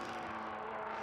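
A Matra V12 in a Ligier JS17 racing car sounds off in a paddock tent at a classic race meeting before Le Mans Classic, a smooth, continuous high-pitched whir held steady and fairly faint through the moment.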